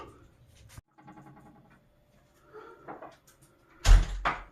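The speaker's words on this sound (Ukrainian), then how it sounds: "зачинили відчинили двері і вони автоматом відчиняються" An interior door fitted with ball latches swings shut and open, with faint clicking and rattling, then a sharper close latch knock near the end.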